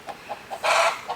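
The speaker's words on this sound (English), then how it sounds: "My chickens are excited about that one" Backyard chickens give short soft clucks at a regular pace, then a louder, harsher squawk in the middle, all close by with no talking.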